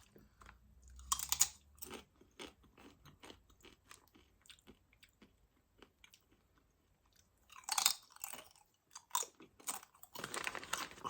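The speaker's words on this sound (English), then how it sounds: "Crunch factor slightly lower than the others" Brazilian root vegetable crisps are crunched and chewed up close in sharp, irregular bursts, with a busy flurry at the start, quieter gaps, then more crunching toward the end, no talking.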